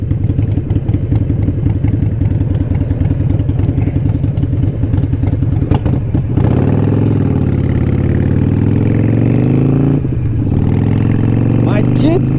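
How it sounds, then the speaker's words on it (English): A Harley-Davidson 883 Iron motorcycle with stage 1 intake and exhaust rumbles at a loping idle, then revs up into a louder, steadier roar, with a brief dip near the end. "It's the Harley Davidson"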